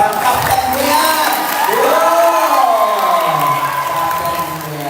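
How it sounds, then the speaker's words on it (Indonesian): A crowd at a fan meeting cheers and claps for a team captain, a loud, lively din of shouting voices and applause that swells in the middle and eases toward the end. "tepuk tangan buat seorang Kapten Dian"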